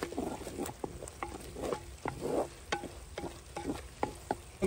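Kasuri methi, ginger and garlic cooking in a kadai, with soft sizzling and repeated scraping stirs and knocks of a spoon at an uneven rhythm, fairly quiet and close, no talking.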